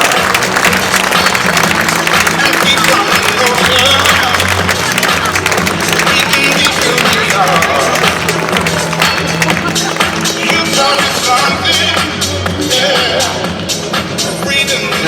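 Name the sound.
audience applause at tennis prize ceremony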